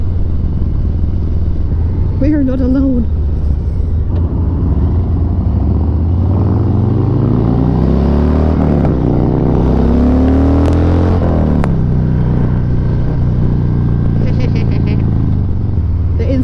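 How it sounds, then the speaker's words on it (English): A motorcycle engine roars past close by, rising and falling in pitch as it revs, while someone talks over the loud motor noise. "Another motorcycle."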